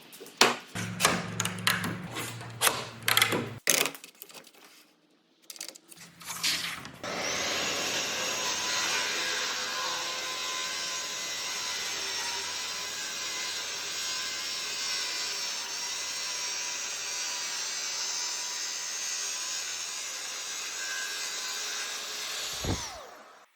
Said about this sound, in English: Without question, the smoothest and quickest cut I've ever made with a track saw.